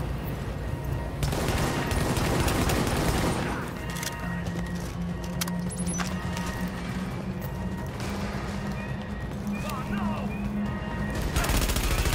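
Gunfire in Tom Clancy's The Division, with dense bursts of automatic fire and scattered heavy impacts that go on almost without a break, loud and close, with a voice faintly underneath.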